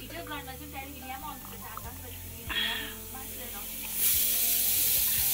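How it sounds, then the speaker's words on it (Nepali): A pressure cooker steams yellow dal with a continuous hiss that swells into a loud, bright release near the end, over cooking sizzle and a person speaking close by. "कुकरमा दाल पनि पाक्दैछ पहेँली दाल है"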